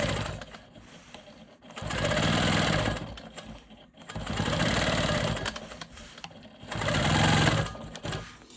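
A Quilt Maker Pro 20 quilting machine doing ruler work, whirring in three sustained bursts of stitching separated by quieter pauses, close by with no voices.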